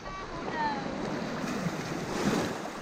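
Sea surf washing steadily at a beach, a continuous broadband wash with wind buffeting the microphone and a brief whistle-like tone early on, fairly close and moderately loud.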